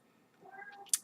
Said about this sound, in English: If you hear my cat meowing, just ignore him